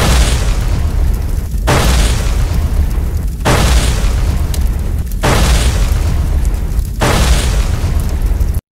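Cartoon explosions from big bullets being launched, five loud booming blasts in steady succession, each a broad rumbling burst that rolls straight into the next, with no voices.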